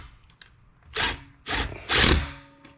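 A handheld power drill driving screws while a computer desk is assembled: three short whirring bursts of about half a second each, close and fairly loud, with quiet handling noise between them and no talk.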